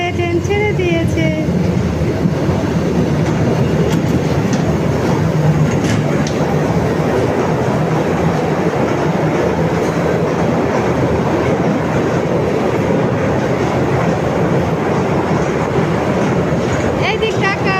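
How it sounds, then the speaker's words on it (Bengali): A train pulls away and keeps running, its steady loud rumble and rolling clatter filling the whole stretch, with faint voices in the background. "ট্রেন ছেড়ে দিয়েছে, ট্রেন ছেড়ে দিয়েছে"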